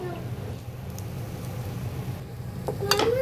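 Dried fish (shutki) dry-frying in a pan with no oil, giving a soft, steady sizzle with light stirring and scraping, faint and close, ending in a few brighter clinks.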